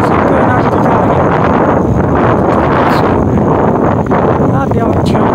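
Wind rushing over the microphone during a bike ride on a loop near Luco dei Marsi, a loud continuous buffeting roar with gusty swells and no clear talk.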